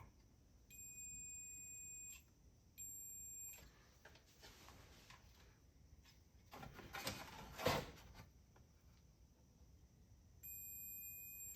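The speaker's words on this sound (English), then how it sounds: "Now, I don't know if that's supposed to beep or not when it's turned on." A Spy Hunter arcade machine powering on gives repeated high electronic beeps in bursts of about a second and a half, separated by pauses, with quiet clatter and handling noise in between.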